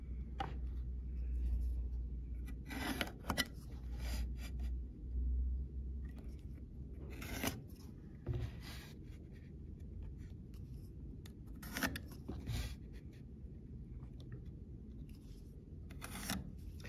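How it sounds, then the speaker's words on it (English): A pencil scratches across timber guided by a square, faint intermittent scraping strokes with occasional light knocks of the tool in a quiet room. "I'm going to draw a line across the whole piece of timber with the square"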